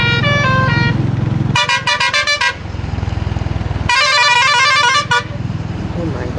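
Trucks honk loudly on the road beside a rider on a Honda CB350RS, with long sustained horn blasts and a rapid stuttering series of toots over steady engine and wind noise, talk mixed in.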